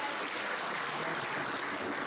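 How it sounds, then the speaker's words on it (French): A church congregation at a Sunday service applauds in a continuous, even wash of clapping at moderate volume, unbroken for the whole short stretch. "Nous avons commencé à l'applaudir pour sa présence."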